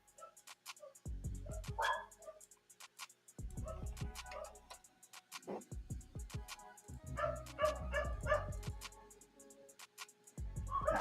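Several dogs bark in repeated bursts with short yips and whimpers, fairly close and loud, breaking in and out across the scene while a faint voice talks in the background.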